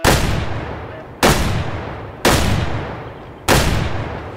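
Four loud, sharp gunshots from a hunting rifle in the hunting video game Way of the Hunter, fired at birds on the meadows of Aurora Shores, each crack followed by a long decaying echo, spaced about a second apart.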